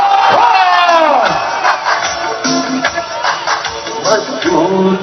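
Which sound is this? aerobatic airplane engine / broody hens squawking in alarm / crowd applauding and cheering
crowd applauding and cheering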